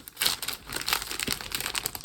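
Sheets of crafting paper, bought to match decorating collections for die-cutting, crinkle and rustle as they are handled, in a steady run of close papery crackles with no talking.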